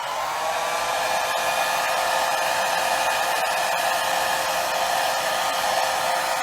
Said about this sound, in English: I can turn on the wind machine.